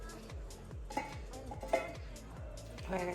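Lid handling on a pressure cooker of ghee-topped khichuri: several light metallic clinks and scrapes of cookware at close range, set over a low, pulsing background hum.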